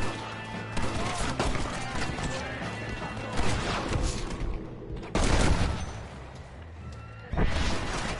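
Gunfire in the video game Red Dead Redemption: a few loud, sharp bursts of shots stand out over a steady bed of game noise, including horse hooves, spaced several seconds apart.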